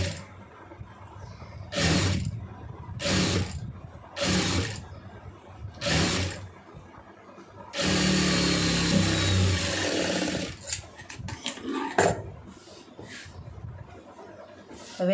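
A sewing machine stitches a designer sleeve in short bursts, several brief whirring runs followed by a longer continuous stretch of stitching, close and fairly loud with pauses of handling between.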